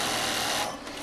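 A double-needle sewing machine stitches newsboy and ivy caps with a steady, close, fast mechanical whir that runs unbroken and eases slightly near the end, with no voices.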